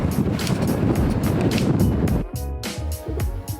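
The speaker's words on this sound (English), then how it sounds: "during winters it's gonna be windy, as you can tell now" Strong gusty wind in Tenby, Wales buffets the microphone with a steady roar, easing slightly near the end where faint outdoor sounds come through.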